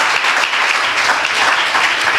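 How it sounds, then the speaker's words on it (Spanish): Steady, dense applause from a large church congregation, loud and continuous throughout. "Denle un aplauso al Señor."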